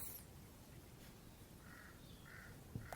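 A crow caws three times in a row, faint and distant over a steady hiss of background noise, followed by a soft knock near the end.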